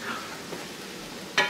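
Deer burger meat cooking in a pan, a low steady sizzle with a sharper clatter near the end, close and fairly quiet, no voices.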